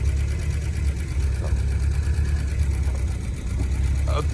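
An original-owner 1983 BMW 320i with a five-speed gearbox sits idling, its engine giving a steady, close, low mechanical hum with an even rhythmic pulse and a brief light tick near the end.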